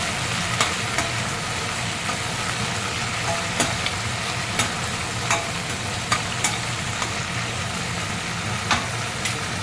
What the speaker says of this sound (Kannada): ಎಣ್ಣೆ ಬಿಸಿ ಆದಮೇಲೆ ನಾನು ಇದಕ್ಕೆ ಒಂದು ಅರ್ಧ ಕಟ್ಟು ಪುದೀನ, ಒಂದು ಸ್ವಲ್ಪ ಕರಿಬೇವು, ಒಂದು ಸ್ವಲ್ಪ ಕಸೂರಿ ಮೇಥಿ ಹಾಕ್ತಾಯಿದ್ದೀನಿ